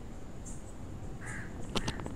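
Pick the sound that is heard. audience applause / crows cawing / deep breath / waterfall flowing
crows cawing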